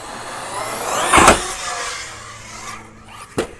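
An Outcast 6S RC car drives at a skate park and launches off a vert wall ramp: a steady electric motor whine, a loud broadband burst near the middle as it leaves the ramp, then a sharp thump near the end.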